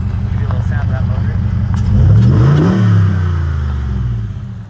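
A stretched Jeep JL on 40-inch tires with a 6.4 Hemi V8 idles with a deep rumble, then revs up and settles back down, close and loud, in an outdoor spot above St. George.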